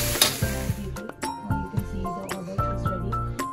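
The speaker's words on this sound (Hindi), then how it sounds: "ये तड़का लग रहा है" Tempering for a mixed vegetable dish sizzles loudly in a pan, crackling and hissing in bursts alongside stirring scrapes and light metallic clinks.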